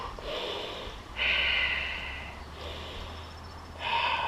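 Deep yoga breathing, slow airy inhales and exhales through the nose, close to the mic in about four long breaths with brief pauses between, no speech.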